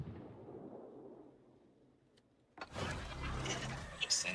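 A quiet low rumble fades almost to silence before a loud, sudden torpedo-hit explosion in a World of Warships naval battle bursts in and roars on, with speech faintly present.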